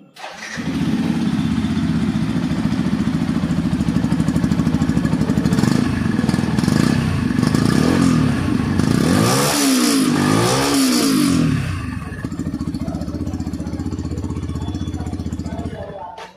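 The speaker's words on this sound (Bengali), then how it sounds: "এফজেডএস ভার্সন 3 সাউন্ড আপনারা শুনলেন" A Yamaha FZS V3 motorcycle engine starts and idles with a steady low throb, revs up sharply twice in the middle, then settles back to idle.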